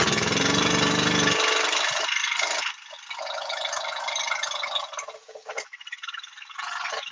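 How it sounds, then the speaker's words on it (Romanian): A boat's outboard motor runs right after being started, a loud steady buzzing drone that drops in level partway through and fluctuates unevenly near the end, with no talking. "Motorul merge."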